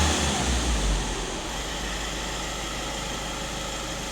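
A VW Touran 1.6 TDI 150 PS diesel engine idles with a steady, even rumble and low vibration, heard close by after a brief louder moment at the start; no speech.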